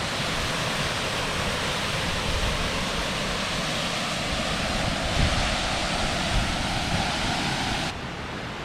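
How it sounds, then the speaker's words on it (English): Cascada El Salto del Nogal, the largest waterfall in Jalisco, roars in a steady, dense rush of falling water deep in a gorge, loud and unbroken throughout with no voices. "here it is, the largest waterfall in Jalisco"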